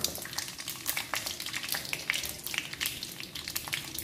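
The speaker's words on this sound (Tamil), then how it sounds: "இந்த பூண்டு வந்து நல்லா இந்த எண்ணெயில் நல்லா பொரியணும்" Garlic, mustard seeds and urad dal crackle and fry in hot oil in a pan, a steady close sizzle broken by sharp little pops scattered throughout, with no one talking.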